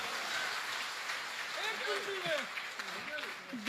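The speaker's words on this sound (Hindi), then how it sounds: "देखो तालियां आपने बजा दी है" A poetry-recital audience at a Hindi comic poetry gathering breaks into sustained applause, a dense steady patter of many hands heard from a distance, with a voice speaking over the clapping.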